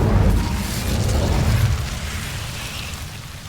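Incendio, the fire spell in Hogwarts Legacy, gives off a deep roaring whoosh of flame that starts loud and slowly fades over a few seconds, rumbling and close.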